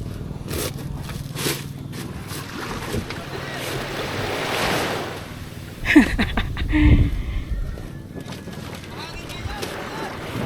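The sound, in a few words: strong wind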